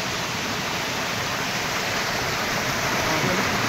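A waterfall at Ashok Jhara near Sukinda, Jajpur, giving a steady, dense rushing roar of falling water with no breaks, close and even throughout.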